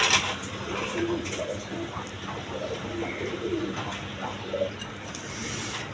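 Soft, low pigeon coos repeat in short phrases over a steady background hum, with faint traffic-like noise underneath.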